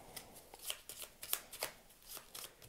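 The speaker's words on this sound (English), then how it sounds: "and then you shuffle up the restriction cards" Cards from the Narabi board game, restriction cards, being shuffled by hand: a string of quick papery riffles and flicks in an uneven rhythm, fairly faint and close, with no talk over them.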